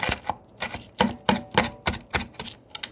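A knife chops an onion on a cutting board in quick, sharp knocks, about a dozen close thuds in an uneven rhythm with short gaps between, and no talking.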